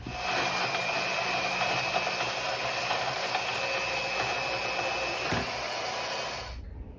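A steady, grinding cut through 1¼-inch steel angle iron runs continuously for several seconds with a harsh high whine, then stops abruptly near the end.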